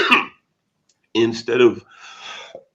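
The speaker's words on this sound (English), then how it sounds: "pardon me. You've got my cough." A person coughs and clears their throat once near the start, a short loud burst, followed by a few spoken words after a pause.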